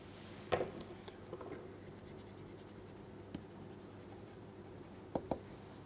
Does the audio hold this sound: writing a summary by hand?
yes